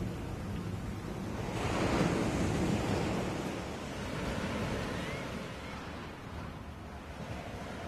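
Rough sea waves break and surge in a continuous broad roar with wind, swelling loudest near the middle then easing, heard alone without voices as a radio drama effect.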